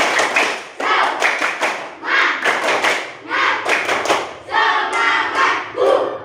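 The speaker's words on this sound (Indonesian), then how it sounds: "Pak Guru minta nanti kita lakukan tepuk semangat dulu" A standing class of schoolchildren performs a rhythmic clapping chant led by their teacher, loud bursts of claps in patterned groups mixed with shouted voices, pausing briefly between phrases.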